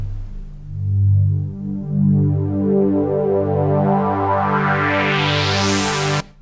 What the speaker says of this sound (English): we hear that nice shimmering glassy effect